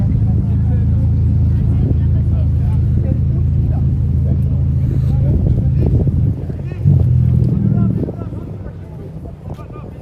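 A classic car's engine runs at a steady, loud idle close by with a deep low drone, briefly swelling in a short rev near the end before settling lower, with wind buffeting the microphone.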